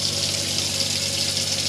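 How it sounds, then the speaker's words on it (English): Water pump in a Roller Team Zefiro 696 motorhome runs steadily, drawing water through the sink tap in a continuous close rushing hiss with a low motor hum underneath. "And as long as the pump's on, you'll be able to pull the water through."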